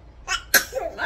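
A single sharp sneeze from a woman, close and loud, with a brief intake before the burst and a faint voiced tail after.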